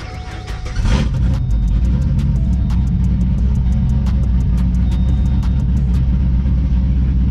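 A cammed car engine idles loud and close after a brief start, with a deep, steady rumble and a lumpy, rhythmic lope from the cam; no talking.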